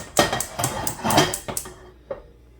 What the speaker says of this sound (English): So over here, I'm gonna get this pan going.